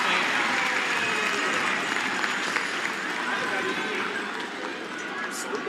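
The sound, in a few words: curling crowd cheering after a great shot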